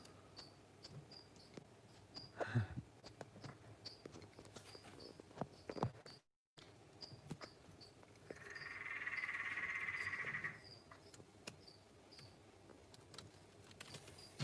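A group of male frogs calls outdoors, their chorus mixing with constant insect chirping; a louder, sustained trilling burst rises midway before fading back into the faint night background.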